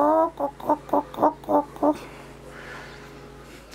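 A garden chicken clucks in seven quick, evenly spaced close-up calls, then falls quiet over faint background noise.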